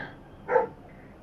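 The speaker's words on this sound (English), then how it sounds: "My dog barking in the background." A single short dog bark sounds at a distance in the background of a quiet room, one brief muffled woof with nothing else around it.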